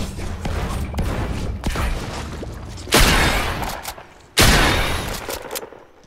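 Gunfire in the Fortnite video game, rapid sustained bursts of shots that come in three loud clusters, with brief quieter gaps between them.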